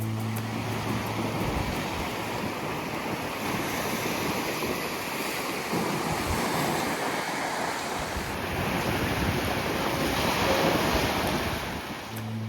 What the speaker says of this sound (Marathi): खळखळणाऱ्या लाटा जेव्हा दगडांवर आपटतात